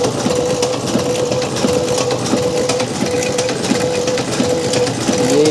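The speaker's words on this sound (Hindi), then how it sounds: "और जो भी अपन ने सेकंड नंबर पर जॉब चलाया था उसी के अब अपन लिफाफे प्रिंट करने लगे हैं।" A printing press runs off envelopes for wedding cards, giving a loud, steady mechanical clatter with a fast repeating rhythm close by, with no talking.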